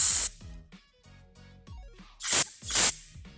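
An aerosol can of cleaner sprays in bursts into the holes of a Holley 4160 carburetor during a rebuild, giving short loud hissing blasts near the start and two strong ones near the end, with quieter clicks and handling noises between them.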